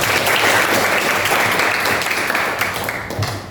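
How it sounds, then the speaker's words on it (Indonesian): Applause for schoolchildren in a classroom, a dense burst of many hands clapping loudly and continuously. "Tepuk tangan untuk kalian."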